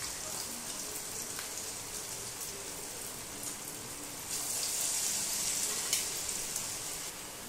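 Pakoras of curd and semolina batter fry in hot oil in a kadhai with a continuous crackling sizzle that swells a little louder partway through.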